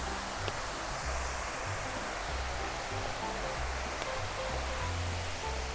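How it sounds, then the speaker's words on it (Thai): Waterfall in a Niagara-themed cafe garden in Nakhon Pathom, Thailand: a steady, even rush of falling water, fairly faint and continuous, with no voices over it. "เราไปลอดน้ำตกกัน"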